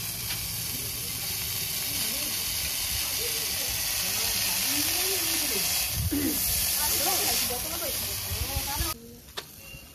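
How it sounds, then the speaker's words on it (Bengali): Steamed broccoli fries in hot oil in a pan, giving a steady, loud sizzling hiss throughout while a person talks over it. "এইতে আরো একটু তেল দিয়ে দিলাম। ব্রোকলিগুলো ভাপানো ছিল, সেগুলো একটু ভেজে নেবো।"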